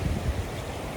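Sutlej river floodwater flowing across farmland near the village of Bela Ramgarh, heard as a steady rushing, wind-like roar with a low rumble for about a second, with no voices.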